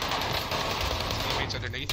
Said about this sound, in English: His teammates trying to shoot at me from behind.